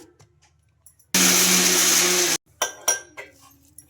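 A mixer grinder blends soaked peanuts with no water added in one loud burst lasting just over a second. It stops abruptly, and a few clinks and knocks from the jar follow.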